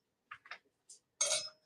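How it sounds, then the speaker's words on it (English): A metal pastry blender clinks against a mixing bowl in a home kitchen while strawberry dumpling dough is being made, giving a few light, separate taps followed by a brighter, longer clatter near the end. "This is a pastry blender."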